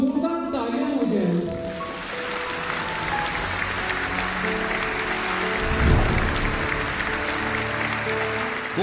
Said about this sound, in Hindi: दोस्तों एक बार जोरदार तालियां हो जाए।